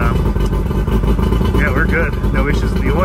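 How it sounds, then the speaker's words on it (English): A 2005 Sea Boss 180CC center-console boat's engine idles on a cold day, a loud, steady low rumble that runs unbroken for the whole stretch, with a few faint higher chirps near the end. "Engine sound, idle"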